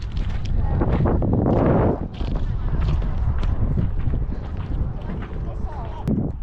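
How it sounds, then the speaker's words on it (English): Strong wind buffets the microphone in a constant low rumble and roar in a valley on Mount Teide, Tenerife, with someone talking underneath it. "It's a bit windy."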